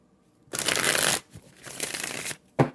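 A deck of cards is shuffled for a tarot reading in two long riffling bursts followed by a short snap, crisp and close, with no talk.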